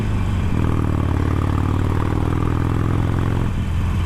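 Harley-Davidson Iron 883 motorcycle riding over a road divider, its loud steady engine drone and road noise close by with a rumbling clatter through the middle of the ride, no voices.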